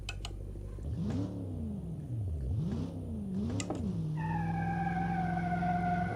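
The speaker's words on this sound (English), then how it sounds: "Oh, those one-wheel burnouts, not enough power at all. And this is like pedal to the floor." A car engine in the BeamNG.drive driving game rises and falls through several revs during a one-wheel burnout, then settles into a steady high drone, close and fairly loud, with no talking.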